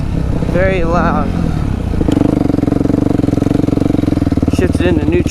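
A loud dirt bike engine runs at a steady idle in neutral in a backyard, a dense continuous rumble with people talking over it at the start and end.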